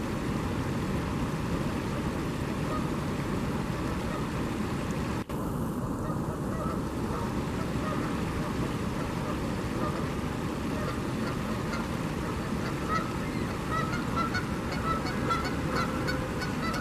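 Canada geese honk repeatedly as they take off and pass low overhead, about three meters up, their calls steady and fairly close over a constant background wash.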